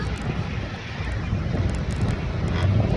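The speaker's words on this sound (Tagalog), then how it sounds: "Guys, malakas na hangin." Strong wind ahead of a typhoon in Coron buffets the microphone in a steady, loud roar with low rumbling gusts throughout.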